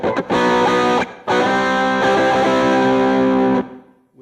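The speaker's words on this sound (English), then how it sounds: "With an overdrive kind of sound there." A DIY kit electric guitar with overdrive, tone and volume turned all the way up, rings out in loud, sustained distorted chords, broken by one short gap before fading to silence at the end.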